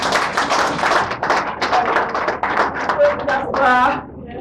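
A church conference audience claps for itself, loud uneven clapping close by mixed with voices and cheering, ending in a brief vocal exclamation.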